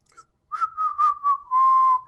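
A man whistles a short wavering tune, clear and close, with a few quick rising notes followed by one long held tone, after a brief faint chirp and a moment of silence.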